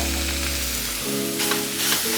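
Ground beef and pork sage sausage frying in a pan for dirty cabbage, a steady close sizzle with faint stirring scrapes and no voices.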